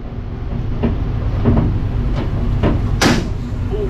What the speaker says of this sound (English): Oh wow, this hinges need some oil.